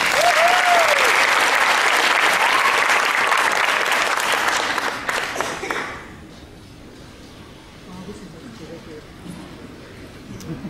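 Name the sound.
audience applause for a singing duo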